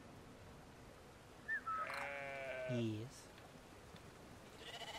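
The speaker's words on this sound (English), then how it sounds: "I hear the sheep." A single drawn-out sheep bleat with a wavering tone in the video game Brothers: A Tale of Two Sons, followed by a lower second bleat, over quiet ambient noise; a brief voice speaks.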